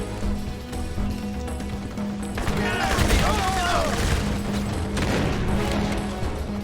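Gunfire in the Crysis video game, a dense burst of shots and impacts swelling midway and lingering under steady background game noise and a low hum.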